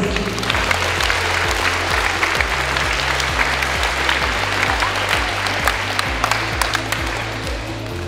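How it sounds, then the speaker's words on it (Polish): Dense, sustained audience applause at a school dance championship in Poland, loud and steady throughout with a thumping music beat underneath. "Gorące brawa dla Was wszystkich."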